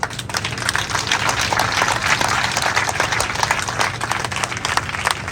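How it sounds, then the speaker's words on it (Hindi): Sustained applause from an audience at a clerks' strike gathering in Sonipat, a dense steady roll of many hands clapping that stays loud for the whole stretch without letting up. "मैं समझ जाऊंगा कि आपने तालियां बजा दी है"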